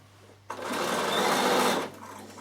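A Bernina sewing machine stitching around a carry case runs in one continuous burst of about a second and a half, near and loud with a steady whirring buzz, then stops.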